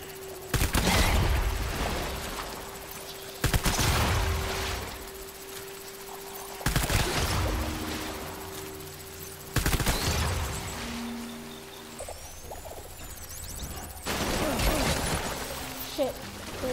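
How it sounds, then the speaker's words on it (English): Repeated bursts of gunfire from the player's weapon in Death Stranding come as loud volleys every few seconds, with a sustained tone and other game sounds running between them. "Probably gonna have to use my gun."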